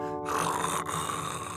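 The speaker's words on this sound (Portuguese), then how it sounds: "como ele ronca" A cartoon seal snores loudly and steadily close by, one drawn-out rasping breath filling the whole moment with no talking.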